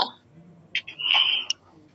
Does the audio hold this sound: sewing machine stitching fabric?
no